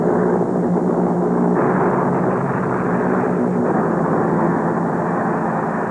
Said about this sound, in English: bombers take off round the clock to hit railway centers in northern France